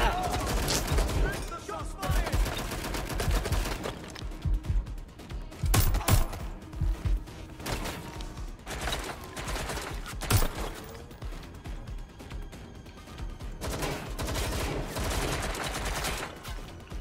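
Suppressed gunfire in Watch Dogs Legion comes as repeated muted snapping bursts, some in quick strings, over game sound with a few sharper cracks throughout.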